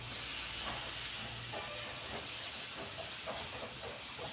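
Lemon rubbed over a hot cast-iron dosa pan during cleaning, a faint continuous steam hiss with soft scattered crackles, quiet and steady, with no voices.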